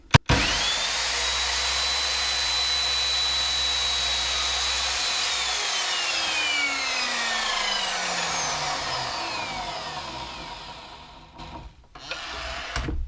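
A power saw whines steadily through wood pieces for several seconds, its pitch shifting as the blade cuts, then spins down and a few short clunks follow.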